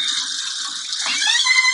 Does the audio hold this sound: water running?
yes